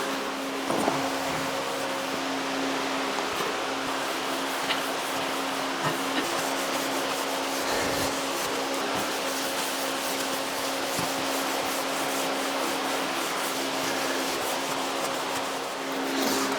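Wooden drawers being wiped down by hand, a steady soft rubbing and brushing texture running continuously over a constant low background hum, with no talking.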